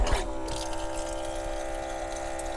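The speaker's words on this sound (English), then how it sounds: "water pump right there." Small battery-operated water pump on a camper van sink faucet, running with a steady, close electric whir and water flow that holds level throughout, after a brief clunk at the start.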